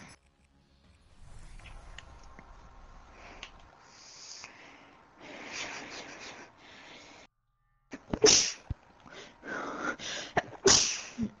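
Two sharp, loud sneezes burst out in quick succession near the end, after a stretch of casual talk during gaming, close to the microphone.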